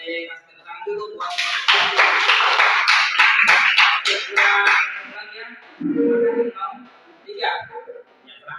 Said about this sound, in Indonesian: Boleh kasih tepuk tangan dulu buat